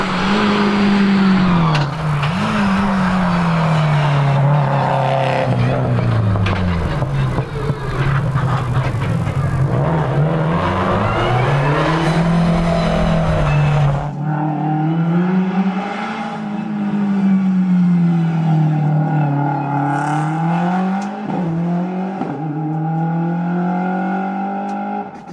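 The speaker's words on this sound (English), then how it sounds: "Sandra Branham in the Subaru WRX should be heading up here now." A Subaru WRX race car climbing a hillclimb course at the Legend of the Lakes event, engine droning and rising and falling through gear changes, then fading slightly as it continues uphill, with occasional tire noise.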